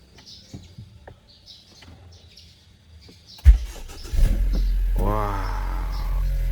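A Honda CR-V turbo engine cranks and fires up with a sharp start, then settles into a steady, close idle, after quiet ambient sounds and faint bird chirps.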